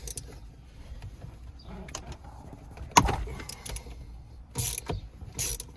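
Ratchet with a 10 mm hex bit loosening the steering wheel of a Maserati Ghibli, sparse clicking and scraping strokes, quiet and close, with one sharp clack midway and a few louder bursts near the end.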